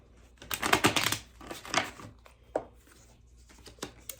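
Tarot cards are shuffled close by in a few quick riffling bursts, crisp and papery, with short pauses between them.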